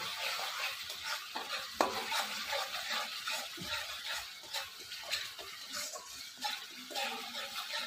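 Turmeric, salt and Kashmiri red chili powder are stirred into a masala for a curry. A spatula scrapes in quick repeated strokes over a faint, steady sizzle, with a few sharper knocks against the pan.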